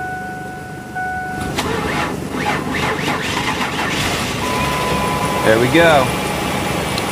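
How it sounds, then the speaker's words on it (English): A van engine cranks and catches after a jump start from a running truck, then settles into a steady idle close by. A person briefly speaks over the running engine. "so we're going to start the engine in my van."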